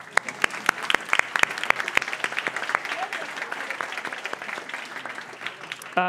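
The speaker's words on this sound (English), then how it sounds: "Round of applause for cash not being dead." An audience at a debate on whether cash is dead breaks into a round of applause, a few sharp early claps swelling into a steady clatter from a medium-sized room, with a voice starting up at the end.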